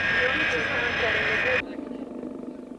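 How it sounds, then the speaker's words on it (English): A yellow Boeing 707 freighter lumbers across airport tarmac to a parking space, its engines giving a steady, loud jet roar that suddenly drops to a lower, fluttering rumble. "A yellow Boeing 707 freighter lumbers to a parking space on the tarmac."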